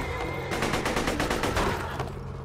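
Rapid gunfire in Borderlands 2, a quick loud string of about a dozen shots over roughly two seconds above a steady background hum.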